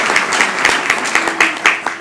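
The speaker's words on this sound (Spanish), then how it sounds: "Levanta tu mano y aplauda a Jesús esta noche." A church congregation claps during an evening sermon with brisk, rhythmic handclaps in unison. The applause is loud and close, and the sharp, regular beats run over a faint hum of room noise.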